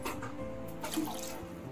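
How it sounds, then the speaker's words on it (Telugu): Water poured over sugar in a pan while making Mysore pak, a steady close trickle and splash running continuously without pause. "పంచదార మునిగేంత వరకు వాటర్ పోసుకోవాలి"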